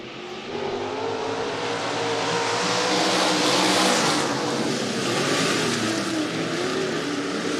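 Stock cars roaring around Rapid Speedway during a heat race, a dense, loud engine drone that swells as the pack passes close and stays steady throughout, with no talk over it.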